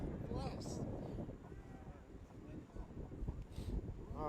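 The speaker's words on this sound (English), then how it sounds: "windy, windy, windy." Wind gusting outdoors at a lacrosse game, buffeting the microphone in a low rumble throughout, with someone talking over it.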